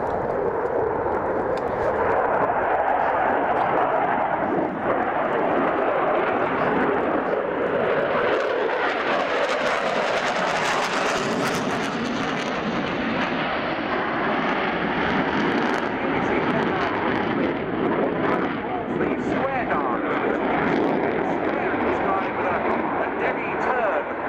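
A military jet maneuvering low and tight at the Air Tattoo 2018 air show, its engine roar loud, broad and continuous throughout, swelling slightly as it turns.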